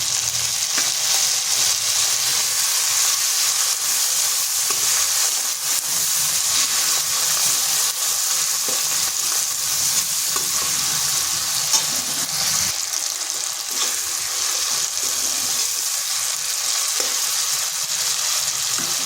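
Steady loud sizzling and frying as tomato cooks with fried ginger and turmeric in a pan for potato-tomato curry, continuous hiss close up with occasional stirring.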